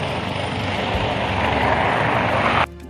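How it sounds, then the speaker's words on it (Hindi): A helicopter passes overhead at an outdoor mass religious gathering in Islamabad, its loud, steady rotor throb and engine roar filling nearly three seconds before cutting off abruptly. "पीछे से हेलीकॉप्टर जा रहा है उसकी आवाज़ आ रही है।"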